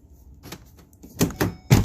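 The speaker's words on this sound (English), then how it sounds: "get that door shut" The door of a 2009 Ford Escape Hybrid is shut, giving a few close, solid thunks in quick succession after a short stretch of quiet shuffling.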